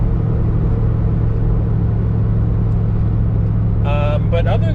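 Steady low rumble of a 1992 Ford Mustang LX 5.0 convertible cruising lightly, a constant drone with wind noise throughout, and a few brief higher-pitched chirps near the end.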